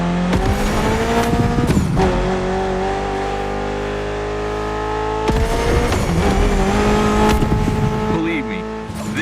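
A Mitsubishi inline four-cylinder car with 280 horsepower in The Crew Motorfest revs hard, with rising and falling engine pitch, tire squeal and skids that break off sharply twice.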